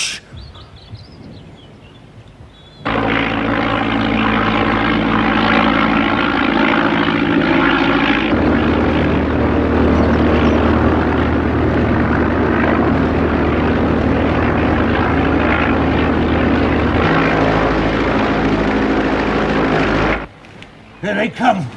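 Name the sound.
propeller aeroplanes flying overhead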